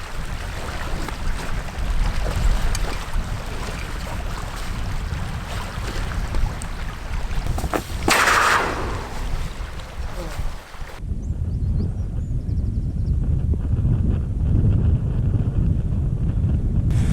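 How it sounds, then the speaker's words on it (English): Strong wind buffeting the microphone while paddling a packraft along a remote Scottish loch, a loud continuous roar with light water sounds beneath and someone talking over it. "So the wind's really pushing us along here this morning and making us, yeah, pretty an easy paddle."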